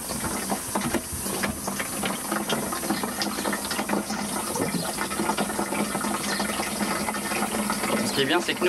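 Water runs steadily from a tap into small plastic jerrycans at a roadside spot in Greece during a campervan trip, a continuous splashing fill with people talking nearby over it.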